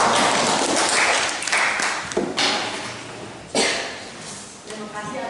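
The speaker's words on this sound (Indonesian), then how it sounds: "Kita berikan tepuk tangan" Applause from a classroom group welcoming the next group of presenters, broad clapping that swells and dips in bursts with a few sharper thumps, moderately loud with some voices mixed in.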